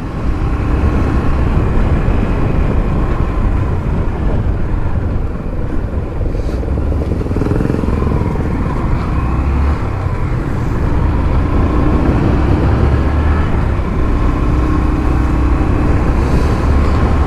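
Motorcycle ridden along a road in Ceará, Brazil, with a loud, continuous engine drone and rushing wind noise that holds steady with slight swells as the rider accelerates.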